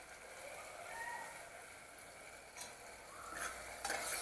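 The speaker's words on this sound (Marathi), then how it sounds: "गॅस बारीक करूनच घालायचं दही परतून घ्यायचं आपल्याला" Yogurt being stirred into chicken pulao in a pan over low heat, a soft sizzle with scraping stirring strokes and occasional utensil clinks, fairly faint and close.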